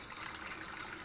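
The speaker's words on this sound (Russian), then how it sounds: "Налить воды в чайник." Water runs into a kettle in a short, faint, steady gushing stream, with no talking over it.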